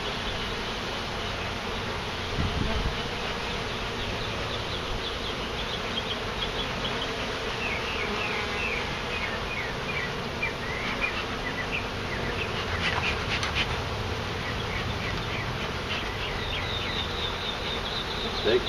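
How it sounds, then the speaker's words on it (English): Honey bees, many of them drones, buzz loudly around an opened hive during a removal, making a dense, continuous hum with a few brief knocks from the work. "I have never seen this many drones. This is quite a hive."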